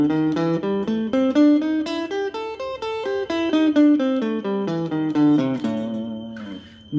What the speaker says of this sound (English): A minor blues scale should sound like this.